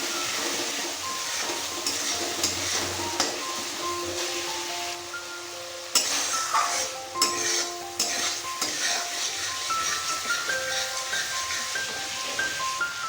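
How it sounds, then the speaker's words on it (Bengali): Ginger, cumin, coriander and green chili paste sautéed in a pan with a little water for ghugni: continuous low sizzling under repeated scraping, stirring strokes and light clinks of the utensil, close and moderately quiet. "ভালো করে এটাকে কষিয়ে নেব।"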